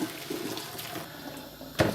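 Boiled peas being drained after blanching, water splashing and gurgling steadily through a colander into a sink, with a louder gush near the end.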